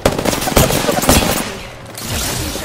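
Gunfire in the video game Prowler: rapid bursts of automatic shots, close and loud, clustered in the first second and a half, then fading into a lower rumble of continued firing.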